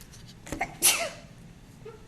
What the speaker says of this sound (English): Peppermint makes me sneeze.